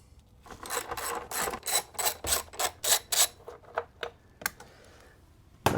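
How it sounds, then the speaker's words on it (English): A 10 mm clamp bolt on the battery hold-down of a RAM 1500 being turned with a ratchet, giving a rhythmic series of about a dozen close rasping clicks. The strokes come in a steady cadence and then slow toward the end. "take this 10 millimeter bolt with a clamp that is holding the battery together"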